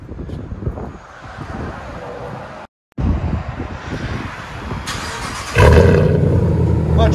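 A 2017 RAM 1500 with the 5.7L HEMI and true dual exhaust on straight pipes rumbles loud and near. Its deep, rough drone cuts out briefly, then returns and swells louder near the end.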